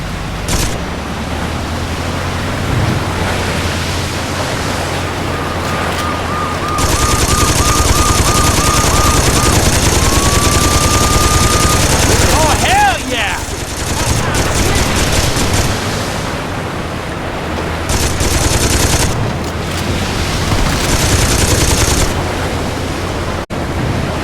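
Mounted machine gun rattling in sustained bursts during a Saints Row 2 boat escape, loud and continuous over engine and water noise, with a brief whistling streak partway through.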